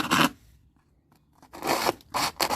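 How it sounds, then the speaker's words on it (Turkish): An iron rod jabbed into potting soil inside a container to make planting holes for mint, giving a few short, close gritty scraping and crunching bursts separated by a quiet pause. "ben bir demir çubuk yardımıyla içindeki toprakta delikler açıyorum."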